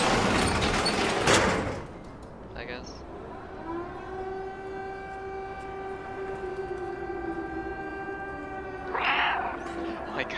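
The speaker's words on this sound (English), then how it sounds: "I can't use the meow button." A short synthetic meow from the video game Stray sounds between bursts of noise, followed by a sustained electronic tone that holds steady and then fades.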